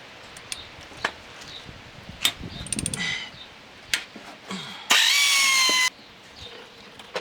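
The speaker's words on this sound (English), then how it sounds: "Next I'm going to take off my calipers. This is a 13 millimeter bolt." Removing a 13 mm brake caliper bolt on a front axle job, with scattered metallic clicks and ratcheting taps, then a loud, steady one-second burst of a tool spinning the bolt out, close by.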